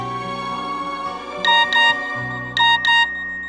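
A phone ringing out with a repeated electronic double-tone ring, two bursts of paired beeps at steady intervals over a low background hum, while calling a passport office.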